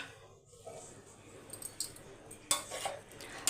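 Paneer fried rice stirred in a pan with cabbage and capsicum, giving soft scraping and light clicking of a spoon against metal, faint and irregular with a few sharper taps.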